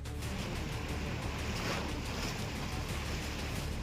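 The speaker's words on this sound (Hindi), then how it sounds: "लहरों का ये शोर डराता है, खौफ से भर देता है।" Roaring floodwater from the swollen Son river in Rohtas, Bihar, rushing as a dense, continuous wash of turbulent surging water with wind-like noise, steady and loud throughout without any voices.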